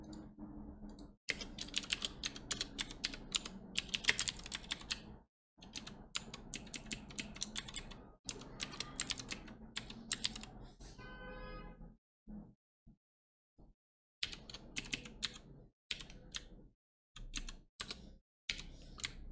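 Java if-statement code typed on a computer keyboard, fast bursts of close, crisp key clicks separated by short pauses, with sparser isolated taps near the end.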